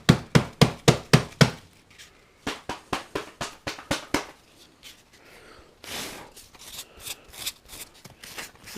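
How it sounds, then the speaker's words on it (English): Sheets of fine-grit sandpaper clogged with lacquer dust are tapped against a surface in quick sharp bursts of close, crisp knocks, followed by softer rustling and scattered taps. "So what you can do is just kind of tap it out."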